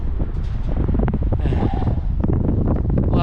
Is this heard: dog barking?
no